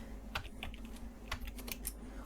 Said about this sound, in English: So now here you can enter the data manually from the keyboard